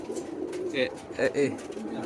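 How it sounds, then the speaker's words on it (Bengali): Pigeons coo at their nests, where some sit on eggs and others have chicks. A few soft, close coos come in short bursts over a low background hum. "কবুতরগুলা দেখেন ডিম নিয়ে বসে আছে"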